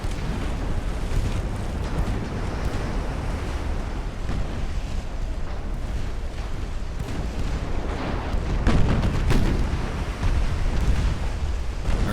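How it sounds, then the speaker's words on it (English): A warship fires a torpedo in the naval game Ultimate Admiral: Dreadnoughts, heard as a deep, rushing rumble over a steady roar of sea and wind, swelling slightly near the end. "I heard a torpedo launch."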